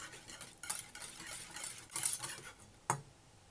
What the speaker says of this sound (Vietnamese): Khuấy ra cho nó tan.